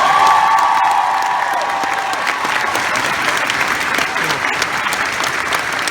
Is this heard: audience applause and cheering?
yes